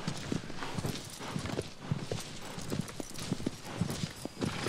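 The horse Agro from the video game Shadow of the Colossus walking slowly through a forest, its hooves giving a steady, soft clip-clop at an even plodding rhythm throughout.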